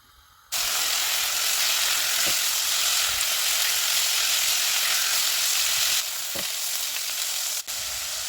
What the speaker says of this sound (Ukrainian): Моркву, цибулю та часник обсмажую до м'якості овочів.